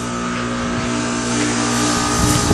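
A 2008 Goodman heat pump running in defrost mode in 48°F weather produces a loud, steady mechanical drone and hum from close by, with whooshing airflow rising slightly toward the end.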